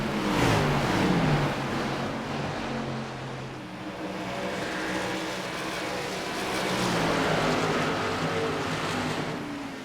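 Engine roar of stock cars in a NASCAR-style racing video game at Phoenix Raceway, a steady loud drone with rising and falling pitch sweeps as cars pass, filling the whole stretch with no talk.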